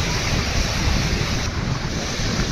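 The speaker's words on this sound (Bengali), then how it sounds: "আমরা দেখতে পাচ্ছি বিশাল বিশাল ঢেউগুলা আসতে পড়ছে এবং ঝড়ো হাওয়া বইছে" Huge waves crash onto the beach at Cox's Bazar during a storm, a loud continuous roar of surf mixed with strong gusting wind buffeting the microphone.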